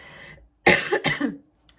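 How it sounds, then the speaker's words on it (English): A close, harsh cough in two heavy bursts, rough and chesty, followed by quiet. "Sorry, I've still got a chesty cough."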